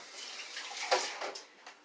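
Seasoned water from a pot roast mix is poured over an eye round roast, a soft, brief splashing trickle at close range in a quiet kitchen.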